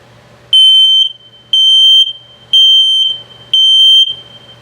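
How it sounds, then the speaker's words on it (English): RV LP gas detector giving its low battery alert, four loud shrill electronic beeps evenly spaced about a second apart, close by, with a low hum between them. "Now low battery alert."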